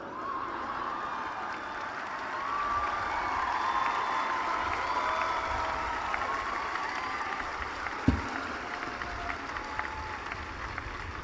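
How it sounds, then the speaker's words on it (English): A large crowd at an outdoor political rally claps and murmurs in a broad, steady wash that swells slightly and then holds, with a single sharp knock standing out partway through. "There would be even more applause than you're giving me today"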